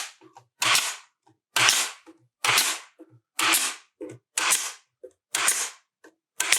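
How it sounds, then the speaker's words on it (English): A staple gun pins an ready-to-assemble cabinet back into its half-inch side, firing about nine sharp, loud snaps in a fairly even rhythm with brief mechanical clicks between shots. "jam the nose of that gun right up into the corner, about every 3 or 4 inches"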